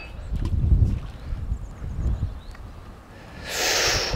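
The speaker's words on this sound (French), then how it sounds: "Ouh, ce petit vent il est frais là." A fresh little breeze sweeps across a riverside meadow during feeder fishing on a river, rumbling in soft gusts that swell and fade, then ending in a brighter rushing hiss.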